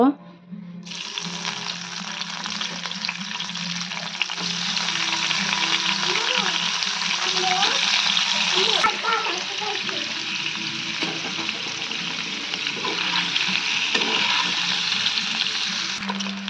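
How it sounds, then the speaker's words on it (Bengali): Eggs frying lightly in oil in a pan while a Pakistani-style roast and egg korma is being cooked, a steady close sizzle running the whole time with some stirring noises and a faint low hum underneath. "এখন আমি ভেজে নেব ডিম। ডিমগুলো আমি হালকা করে ভেজে নেব।"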